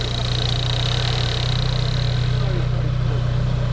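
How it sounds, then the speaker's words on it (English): A barn-find 1980s hot hatch survivor idles smoothly and steadily close by, a constant low engine hum with no revving throughout. "It's idling so nicely."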